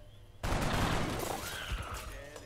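A single loud burst of gunfire in XCOM Enemy Within, sudden and sharp, then ringing and trailing off with debris-like rattles over about two seconds.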